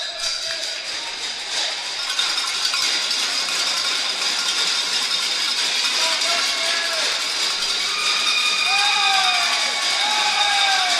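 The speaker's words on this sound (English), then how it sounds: "Crowd is really getting loud for this one" A crowd at an OCAA men's volleyball qualifier in a gym, Mohawk playing at Loyalist, roars in a loud, sustained wall of cheering with rising shouts and whistles layered through it.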